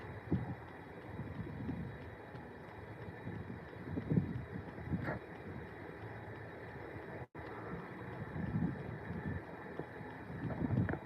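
Outdoor wind buffets the microphone with a continuous low rumble and gusting swells, with a brief drop-out partway through.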